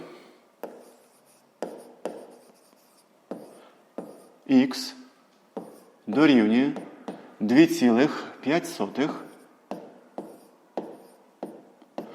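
Pen writing by hand while a math exercise is worked out, giving short scratchy strokes in a steady run of taps and scrapes, close by, with someone speaking intermittently over them.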